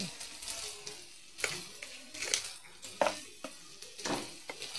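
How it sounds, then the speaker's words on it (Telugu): Spices with salt, chili powder and turmeric fry in oil in a pan and are stirred. Close scraping stirs come in irregular bursts over a quiet, steady sizzle, with no talk. "అది వేగాక కొంచెం కలుపుకోవాలండి నూనెలో"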